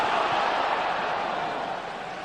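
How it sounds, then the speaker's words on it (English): A dense football stadium crowd roars and cheers in a steady, broad wash during a 2001 Premiership match, the noise holding loud throughout before easing slightly at the end. "the crowd love it"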